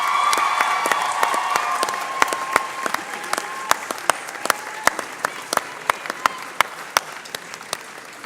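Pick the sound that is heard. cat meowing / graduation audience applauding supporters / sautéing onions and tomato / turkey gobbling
graduation audience applauding supporters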